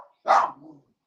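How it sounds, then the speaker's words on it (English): A single loud dog bark, close and sharp, from a dog kept indoors, standing alone after a short quiet moment with no talk over it. "he's still barking"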